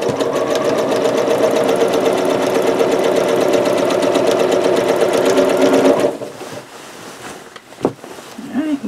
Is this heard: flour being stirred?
no